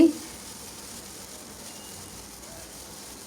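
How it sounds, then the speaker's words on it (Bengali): Okra fried in a pan with potato and egg gives off a steady, close sizzle that hisses evenly throughout, with no voices over it. "আমি ঝরঝরে একটা ভাজি করব এর জন্য এরকম ছড়িয়ে দিচ্ছি আর আস্তে আস্তে করে ভাজি নিয়ে করে নিচ্ছি"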